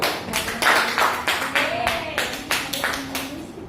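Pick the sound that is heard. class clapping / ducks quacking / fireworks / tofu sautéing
class clapping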